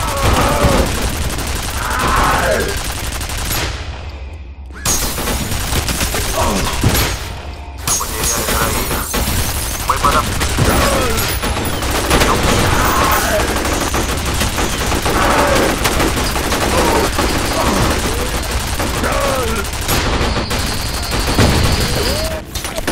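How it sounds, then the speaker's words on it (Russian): Machine gun fire in F.E.A.R. Perseus Mandate, sustained loud bursts of heavy gunfire with short gaps, mixed with impacts and crashes while someone talks excitedly over it. "Обожаю пулемет."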